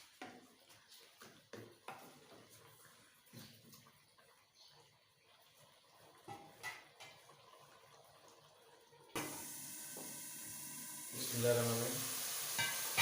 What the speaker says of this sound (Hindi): अभी इसको अच्छी तरह भून लेते हैं।